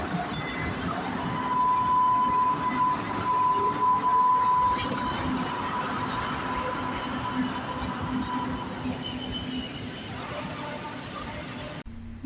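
An MBTA Green Line streetcar runs slowly along the line, a steady rolling rumble with a faint high electric whine and occasional screech, holding at moderate loudness for about twelve seconds.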